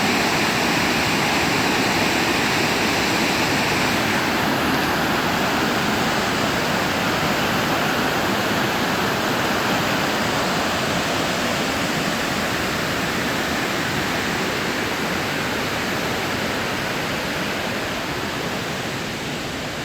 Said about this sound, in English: This might be the prettiest of all the waterfalls that I've seen.